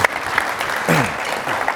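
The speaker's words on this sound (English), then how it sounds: "Let's give them a round of applause." An audience at a wireless and cable industry talk claps briefly, a short burst of applause with a voice speaking over it.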